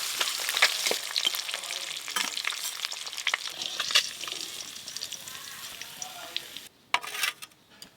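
Boiled eggs fry in hot oil, crackling and spitting busily at close range, with the sizzle briefly dropping away near the end before a few more sharp pops return.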